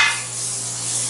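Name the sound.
chicken fajita pieces sizzling and stirred in a pan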